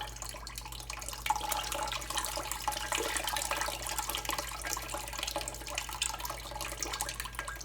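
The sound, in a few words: straining soup liquid through a strainer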